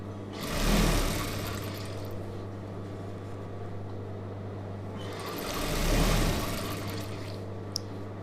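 A sewing machine stitches the neckline of a chudidhar with a steady mechanical hum, swelling into two louder bursts of running stitches a few seconds apart.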